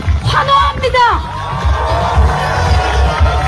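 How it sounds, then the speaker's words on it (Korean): Wedding guests cheer and whoop in a loud, lively burst, with shouts and excited babble rising early and then settling into sustained crowd noise. "관객들은 환호합니다."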